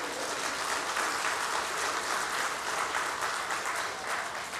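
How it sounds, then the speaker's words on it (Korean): Applause from a church congregation, a dense, even clatter of many hands clapping steadily throughout with no break, filling the room at a constant level. "박수."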